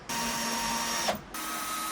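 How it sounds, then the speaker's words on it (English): A power drill whirs steadily as it drives screws into a wooden cutlery drawer during an off-grid kitchen build, a close, loud motor whine that dips briefly and then resumes. "Now let's drill away."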